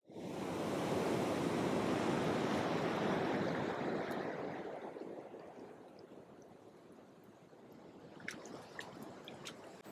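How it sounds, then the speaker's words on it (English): Ocean waves wash onto a sun-lit beach as a steady, loud surge of surf that eases and thins after a few seconds, leaving a softer hiss with a few faint ticks near the end. "a beach with sun shining, and you can hear the waves of the ocean"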